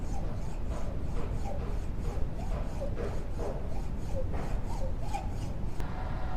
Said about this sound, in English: using this hacksaw, the workpiece has been cut into the required dimension